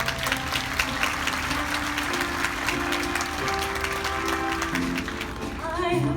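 An audience claps and cheers to welcome a vocalist onto the stage at a live entertainment show, a dense, sustained wash of applause with music playing underneath.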